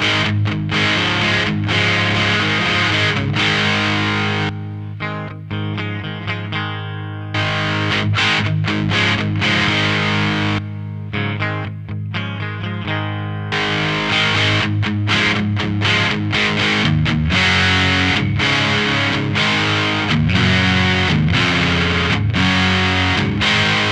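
An electric guitar played through an MXR Distortion+ pedal with the distortion turned fully up rings out loud and heavily saturated, with chords and single notes separated by brief gaps and a constant buzz underneath.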